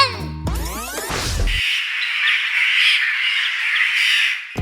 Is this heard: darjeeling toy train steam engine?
no